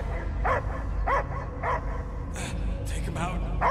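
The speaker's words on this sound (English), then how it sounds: "I hear only barking." A dog barks in the Marvel's Guardians of the Galaxy video game, several short sharp barks and yips spaced about half a second apart, close and clear over a low game soundscape, with occasional speech alongside.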